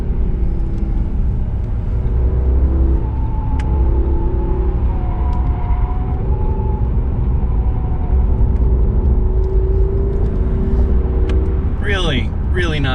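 A steady low engine rumble with road noise as a 2021 Mercedes-Benz S580 4Matic sedan accelerates up an on-ramp at a constant drone for several seconds, with a brief voice at the end.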